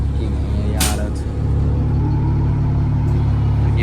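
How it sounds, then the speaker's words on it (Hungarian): City bus driving, a steady loud low engine rumble from inside or close by, with a brief hiss near the start and continuous road noise throughout. "Ilyen a busz egyébként"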